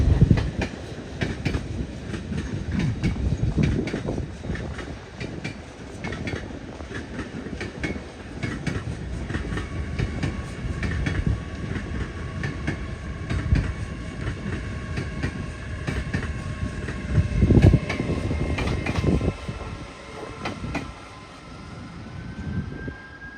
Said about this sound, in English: here we have an LNER Azuma that's coming in from Newcastle going to London King's Cross